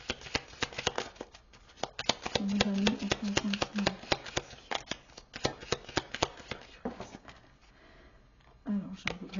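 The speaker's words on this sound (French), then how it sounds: "Je tire une dernière carte pour vous" Tarot cards shuffle and one is drawn from the deck, giving a dense run of sharp paper clicks and riffling snaps, close up, with brief murmured speech in places.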